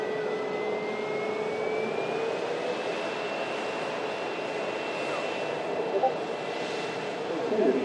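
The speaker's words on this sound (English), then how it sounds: "Here's the Smart Links leased TUI flight" A leased TUI passenger jet arriving from Ibiza gives a steady, continuous engine roar with a thin whining tone on top, heard from a moderate distance and holding level throughout.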